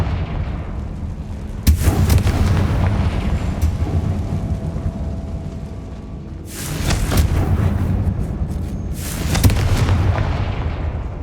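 Confringo fire spell explosions in Hogwarts Legacy, a series of loud booming blasts with sharp onsets and rumbling tails, three main hits spaced a few seconds apart.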